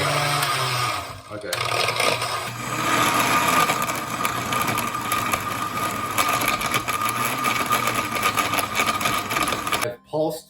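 A blender pulses ice, milk, kefir and bananas for a smoothie, its motor whirring loudly in repeated bursts with brief pauses between, while a person speaks briefly over the noise.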